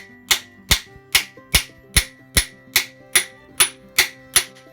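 An impact socket hammered onto a freeze plug to seat it in a truck engine block, about a dozen sharp, loud metallic strikes at a steady, even rhythm.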